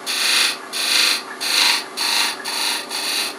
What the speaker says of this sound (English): Now I'm just going to take just a bit of a chamfer, about 45 degrees,